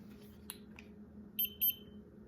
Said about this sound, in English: I'm gonna get rid of that beep.